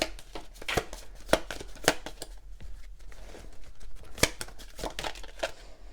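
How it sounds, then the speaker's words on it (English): Crisp papery riffling and flicking of a tarot deck being shuffled, in quick irregular bursts with sharp snaps, close by and fairly quiet. "So let me shuffle these cards."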